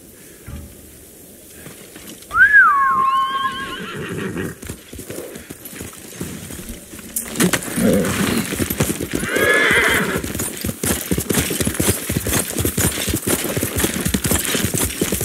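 A horse in the samurai action game Ghost of Tsushima whinnies loudly up close, then its hooves clop rapidly in a galloping rhythm, with a second fainter neigh over the running hoofbeats.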